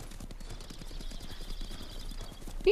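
Horse hooves clip-clopping in the video game Ghost of Tsushima, a steady rhythmic trot under ambient game sound, with a brief louder sound at the end.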